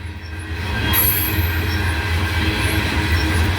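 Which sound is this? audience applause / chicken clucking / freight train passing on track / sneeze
freight train passing on track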